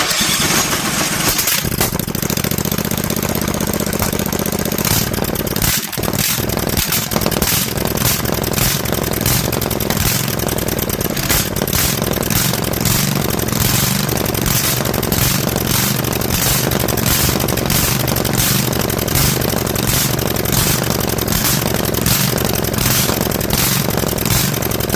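An 18hp Vanguard engine with an unhealthy cylinder fires up after a brief crank and runs loud and steady for over twenty seconds, a rough, uneven rumble close by.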